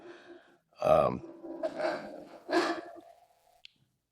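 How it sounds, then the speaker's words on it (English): Three dogs growl and give a few rough, throaty barks in short bursts, fairly close but not loud, with quiet pauses between them. "Is that your dogs. dog? Yeah, that's my three dogs."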